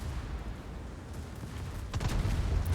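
Stern turrets of the warship Colombo firing in a naval battle video game, a burst of heavy booming gunfire near the end over a steady rumbling background.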